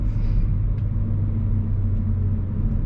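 A 2020 Audi S4 drives on the road, heard from inside as a steady low engine and road rumble that stays even and continuous, with no talking.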